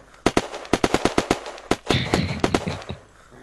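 Gunfire in the multiplayer zombie survival game Unturned 2: a rapid string of sharp, loud shots fired in quick bursts, then a denser flurry of overlapping shots that trails off, close and without talk.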